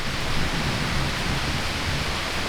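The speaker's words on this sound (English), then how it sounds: "Thunder and lightning." Heavy thunderstorm rain roars steadily with a low rumbling undertone, like a storm pouring down nearby.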